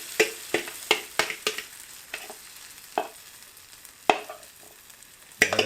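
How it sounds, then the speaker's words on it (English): An omelet and mushrooms cooking in a stainless steel camping pan, with a series of sharp utensil taps and scrapes against the metal over a faint low sizzle, close by. "We'll do up a little omelet and some mushrooms in the pan"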